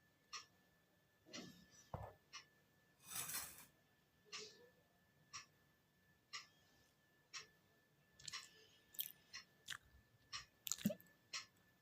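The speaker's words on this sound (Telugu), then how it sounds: "నేను ఇప్పుడైతే కర్రీ టేస్ట్ చేస్తున్నాను" Someone eating paneer curry at close range, with soft irregular chewing and mouth clicks spread across a quiet room, no talking.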